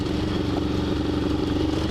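A dispatch tracker motorcycle engine runs loud and close with a steady, throaty mechanical drone and clatter throughout.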